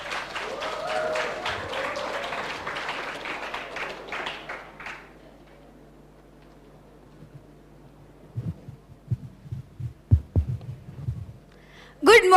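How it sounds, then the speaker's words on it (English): A crowd applauds for several seconds after a student presentation, the clapping fading out into a quiet room, followed by a few bumps and handling noises. "Can we have a huge round of applause?"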